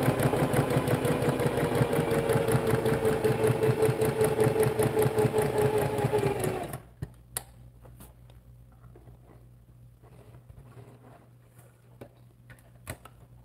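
A sewing machine stitches fabric at a steady fast rhythm for about seven seconds, then stops, leaving quiet room noise with a few faint clicks.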